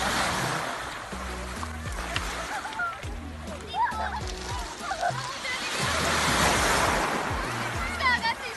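Sea waves at Batumi beach, with sloshing and splashing water close by and a swelling rush of surf, under background chatter and distant voices of other bathers.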